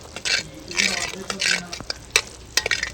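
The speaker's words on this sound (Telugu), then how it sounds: "ఇలా మనం కొంచెం నెయ్యి వేసుకొని పాకంలో కలుపుకున్నాం" Ghee being stirred into hot jaggery syrup in a pan for peanut chikki, giving soft scraping and bubbling sizzle in short repeated strokes, with someone talking over it.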